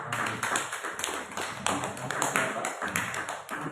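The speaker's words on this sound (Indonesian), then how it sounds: "Kita kasih tepuk tangan untuk pertanyaannya." Audience applause at an Indonesian halal bihalal gathering, a steady patter of many hands clapping for several seconds, moderately loud and fairly close.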